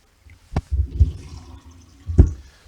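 Water poured into a hot pot of simmering beef and cabbage on a stovetop, heard as a couple of short splashing bursts with a sizzling wash between them, close and fairly soft.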